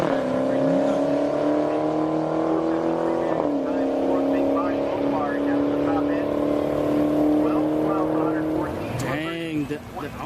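Audi drag car accelerating hard down the strip at a street-racing-awareness drag event, a loud sustained engine note with harmonics climbing steadily, a brief dip around a gear change, and crowd chatter underneath.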